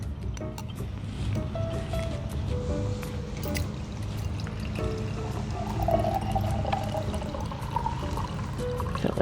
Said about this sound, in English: And now we're going to strain it into our glass.